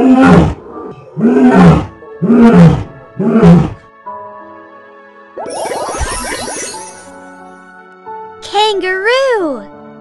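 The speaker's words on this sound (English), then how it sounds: "Lion!" Lion roaring in a children's wild animals learning game app, a single loud roar heard after a voice says several short words, followed by bright chime tones.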